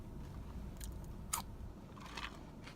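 Quiet, close-up crunching as crisp Arby's food is chewed, with a few sharp bites standing out.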